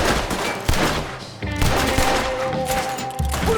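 Rapid bursts of gunfire in a Red Dead Redemption 2 shootout, loud overlapping shots broken by a brief lull partway through and then another volley.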